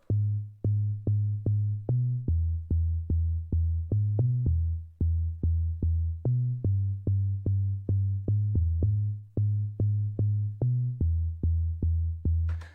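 A deep buzzing FM sub bass synth from Fruity DX10 plays short repeated notes in a steady rhythmic pattern, shifting pitch occasionally, alone and fairly loud.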